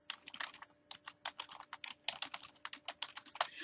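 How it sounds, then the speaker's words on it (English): Rapid, uneven typing on a computer keyboard, a dense run of close, crisp key clicks with no voices. "I'm trying to type and do this review at the same time"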